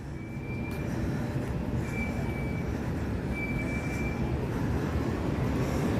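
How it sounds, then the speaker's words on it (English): An F train at the 179th Street subway station in Queens, a loud, steady rumble of wheels and railcars close by, with faint recurring squeals from the rails over the constant low roar. "Already back at the 179th Street subway station for the F train."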